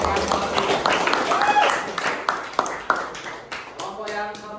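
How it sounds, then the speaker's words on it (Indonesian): A classroom of students claps for a student group after their presentation, a dense burst of overlapping hand claps with sharp individual slaps, mixed with voices throughout. "Kasih tepuk tangan dulu untuk"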